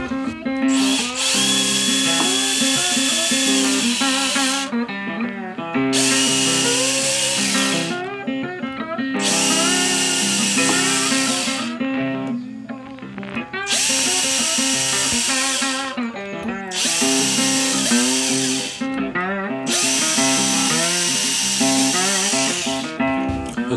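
A power drill fitted with a depth stop bores holes into a Telecaster guitar neck, giving about five loud, close whining bursts separated by short pauses.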